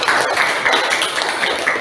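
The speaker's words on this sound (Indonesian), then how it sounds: "tepuk tangan untuk kelompok melati" Applause for the Melati group in a madrasah teacher-training classroom in Banda Aceh: a steady, dense patter of many hands clapping, fairly close and even, with no pauses across the short stretch.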